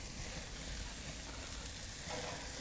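A burger bun toasting on a grill gives off a steady, close sizzle that holds evenly throughout with no talk over it.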